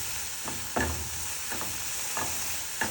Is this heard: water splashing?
no